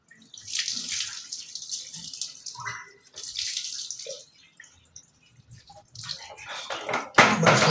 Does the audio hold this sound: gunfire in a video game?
no